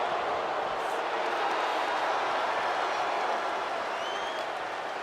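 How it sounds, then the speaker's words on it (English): A wrestling crowd at an indoor show cheers and boos at once, a dense, steady roar of voices and scattered clapping that fills the space evenly with no single voice standing out. "They seem to be just sort of they're cheering the action and vocally booing both teams."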